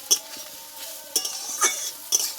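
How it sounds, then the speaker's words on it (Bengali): Kolmi greens (water spinach) being stirred with salt in a pan: a faint sizzle broken by four scraping, clinking strokes of a utensil against the pan, heard up close. "এই লবণটা দিয়ে বন্ধুরা আমি একটু নাড়াচাড়া করে নেবো"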